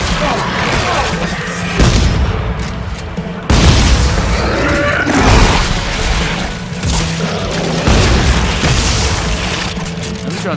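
Booming bomb explosions in a coronavirus-themed action video game, several heavy loud blasts at irregular intervals over a dense rumbling, crackling battle mix, with a voice briefly exclaiming.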